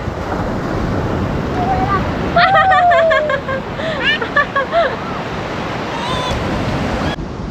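Surf on a beach in Taiwan washes in as a steady, loud broadband rush with wind buffeting the microphone, with faint voices and a few brief chirping tones over it.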